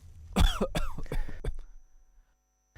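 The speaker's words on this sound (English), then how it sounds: "And what is meant by a new continuous cough?" A single harsh cough with a couple of rough follow-up hacks, close and loud, then silence.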